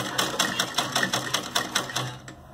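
A sewing machine stitches the edge of fabric on a small summer dress, chattering in a fast, even mechanical rhythm up close before slowing and stopping.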